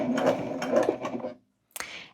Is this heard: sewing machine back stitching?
yes